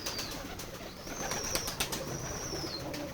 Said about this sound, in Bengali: আপনাদেরকে আমাদের এই খামারের এই কবুতরগুলো আজকে দেখাতে চাচ্ছি।